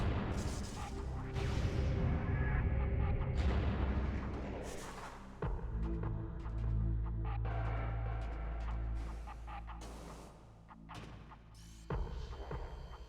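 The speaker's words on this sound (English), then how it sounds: "We're going to lay power bomb." Power bomb blasts in Metroid Prime on GameCube, a deep booming rumble swelling loudly at the start and again midway, with lingering low throbbing hum between bursts and no talking.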